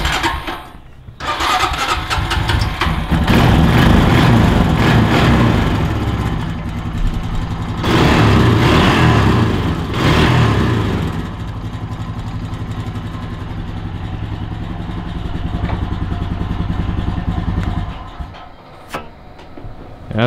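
A ranch quad fitted with a homemade snorkel runs loud and close, its engine revving steadily with surges, dropping briefly, then settling before cutting back near the end.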